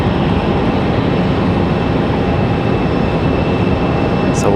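An Airbus A220 airliner rolls slowly toward the runway end at Raleigh-Durham International Airport, a loud, steady engine roar and rumble heard from outside that holds constant throughout.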